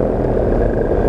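A 2015 powered paragliding air trike's paramotor engine runs at light throttle just after takeoff, a loud, steady close-up drone with no pauses or talking.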